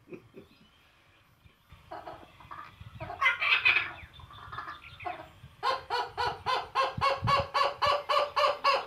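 Repeated bird calls, likely a crow or fowl, ring out close and loud, first scattered harsh bursts, then a steady run of about a dozen evenly spaced rhythmic calls.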